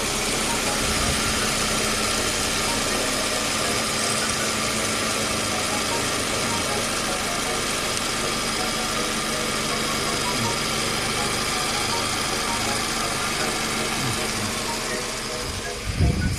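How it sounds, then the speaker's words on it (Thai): A Toyota Wish engine with a misfire and check-engine light on idles steadily at close range, a constant low rumble and hum with a faint voice underneath. "รอบของเครื่องยนต์ปกตินะครับ"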